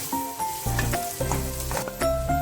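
A masala gravy sweetened with a tablespoon of sugar bubbles and sizzles in the pan while being stirred, a close, steady frying hiss with soft scraping over a short span.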